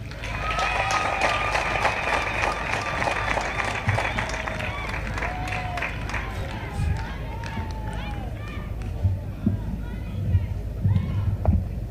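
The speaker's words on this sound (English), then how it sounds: "The youth of Uganda, can you clap better than that?" Audience clapping at an International Youth Day commemoration in Uganda, a steady broadband wash of applause from a large crowd filling the whole stretch, with faint whistles and cheering mixed in.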